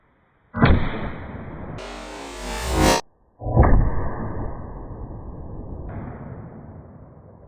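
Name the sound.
Tikka .243 rifle shot firing 80 grain ammunition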